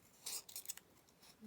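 Scissors snip through paper for a decorative snippet roll, a few quick close crisp cuts in a short burst followed by quieter rustling, soft overall.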